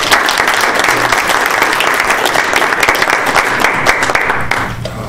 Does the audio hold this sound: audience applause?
yes